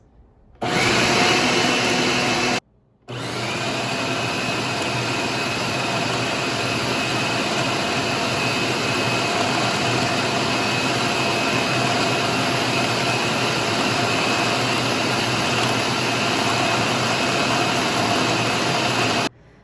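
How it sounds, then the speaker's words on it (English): A blender purees frozen bananas into nice cream with a loud, steady motor drone. It cuts out once for a brief pulse break, then runs continuously at full power. "keep pulsing until it becomes an evenly smooth mix"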